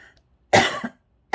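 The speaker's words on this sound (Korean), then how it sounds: "지금 이 순간 갑자기 이렇게 기침이 난다는 것도 참 이상한 증상이죠" A single sudden, sharp cough from an adult man bursts out close and loud, followed a moment later by the start of another, in an otherwise quiet room.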